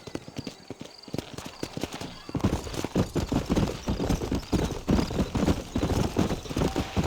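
Horse hooves clip-clop in a steady walking rhythm in the Red Dead Redemption video game, quiet at first and then louder and closer as the rider mounts up and sets off, with a faint whinny.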